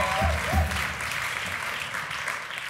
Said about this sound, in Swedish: En applåd för dig.